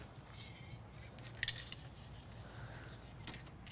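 Scissors cutting off the marked edges of a paper print, a faint brief snip in a quiet room.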